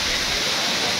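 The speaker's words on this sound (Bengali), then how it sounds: "এই যে আমরা একদম ঝর্ণার নিচে চলে আসলাম" Ham Ham waterfall crashes down in a steady, loud, broadband roar of falling water, heard close up from right beneath the cascade with no break.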